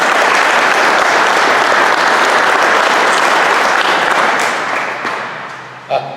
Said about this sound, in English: So I'd love to give Phil a round of applause for his work.